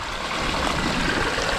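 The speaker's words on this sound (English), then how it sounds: "So we've got a waterfall right there." Water spilling steadily down a small backyard waterfall into a garden fish pond, a continuous close, even wash of splashing and trickling with no pauses and no voices over it.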